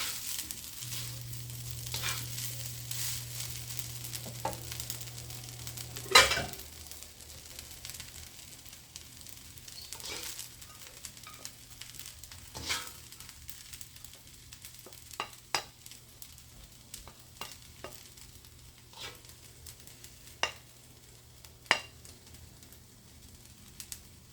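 Chinese fried rice with Chinese sausage being stirred in a pan on a turned-off stove, giving a soft steady sizzle with scattered spatula scrapes and clinks over a low continuous hum.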